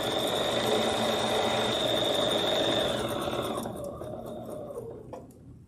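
A Bernina sewing machine stitches along a line with a steady, fast mechanical whir that slows and fades toward the end, heard close up with no talking.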